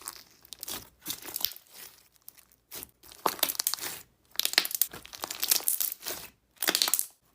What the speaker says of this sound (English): Second cup, the slime is super nice and crunchy.